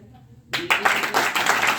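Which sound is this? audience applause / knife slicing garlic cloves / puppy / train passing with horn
audience applause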